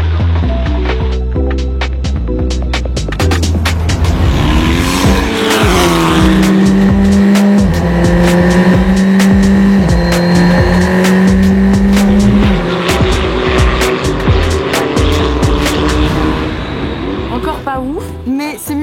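Race car lapping a circuit at the GP Explorer event, its engine roaring loud and close throughout with rising and falling revs, sharp gear changes and brief tire squeals under braking.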